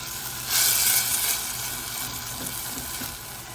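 Honey garlic sauce sizzles steadily in a hot pan over a gas flame while being stirred, a close hissing bubbling with a louder burst early on, and no talking.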